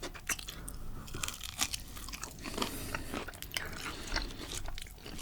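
Crisp, repeated crunching bites into fried chicken fries, close to the mic, with chewing between the bites and no talking.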